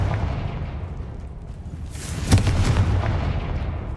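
A single Confringo blast in Hogwarts Legacy booms sharply midway, then rumbles and crackles over a steady low ambient din, with no voices.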